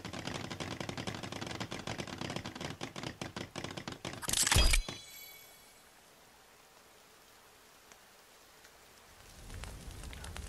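A forest fire in The Forest crackles densely and steadily, ends in a sharp loud burst, then drops to near silence before faint noise returns.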